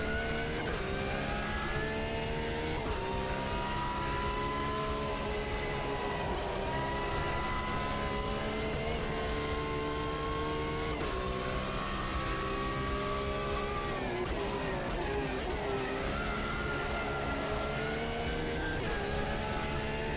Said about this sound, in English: I think the sound just needs improving on this car